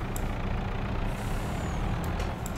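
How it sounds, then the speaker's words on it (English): A truck in Farming Simulator 22 brakes under a steady low engine rumble, with short hissing bursts of air brake and faint high beeps at the start and end. "Ooh, I'm braking"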